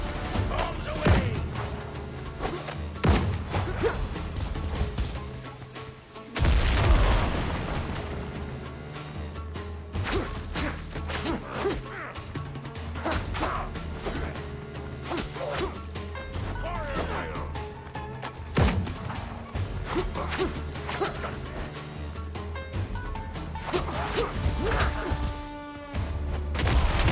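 Bombs explode throughout a naval battle in the Windrose video game, with repeated heavy thuds, crashes and booms in dense, overlapping volleys over a steady din of game noise.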